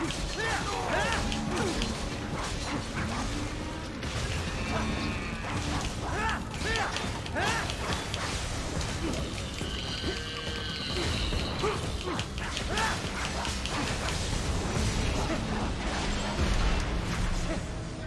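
A freight elevator in the video game Metal Gear Rising: Revengeance, with continuous mechanical creaking, grinding and clanking for a long stretch, dense and fairly loud.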